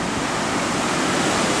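Sea surf at Lazurnaya Bay (Shamora) in Primorsky Krai in spring, a broad steady wash of breaking waves, loud and close, with no voices over it.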